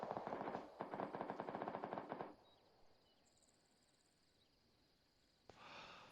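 Rapid bursts of automatic gunfire in ArmA3, a NATO mission set in Finland at night, loud and close for about two seconds, then a quiet ambient stretch before another sharp crack and a rise in background noise.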